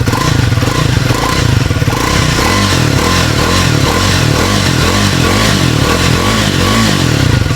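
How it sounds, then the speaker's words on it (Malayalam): A 2025 Triumph Speed T4 motorcycle idles after starting, its exhaust giving a loud, close, steady throbbing beat with a deep bassy note and some mechanical clatter, and no one talking. "അപ്പോൾ ഇതിൻ്റെ എക്സോസ്റ്റ് കൊണ്ടും കൂടി ഞാൻ കേൾപ്പിച്ചുതരാം സ്റ്റാർട്ട് നോക്കട്ടെ"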